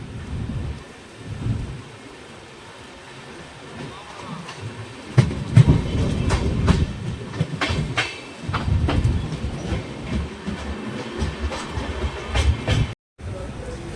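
A train pulls out of Dalkhola station, a continuous low rumble with a rhythmic clatter of wheels that builds steadily, heard from on board, with rain-like hiss throughout.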